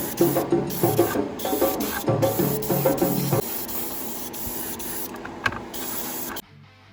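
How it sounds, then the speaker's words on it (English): Tamiya Surface Primer sprayed onto a stripped diecast car body in light coats, a close, steady hissing spray in bursts with brief pauses over roughly six seconds, ending abruptly. "here I used Tamiya Surface Primer. I absolutely love this product. Spray a few light coats"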